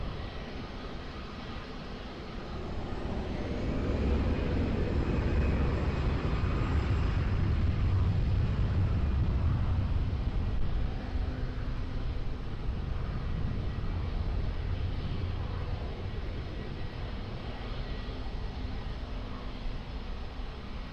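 A passenger airplane taking off from runway 20 at Lisbon Airport, its engines a broad, steady roar that swells after a couple of seconds and holds strong and sustained for the rest of the stretch.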